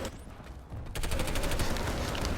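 Submachine gun fire from the NS SMG in the sci-fi shooter PlanetSide 2, a fast, steady burst of rapid loud shots that starts abruptly after a brief quieter lead-in and runs without pause.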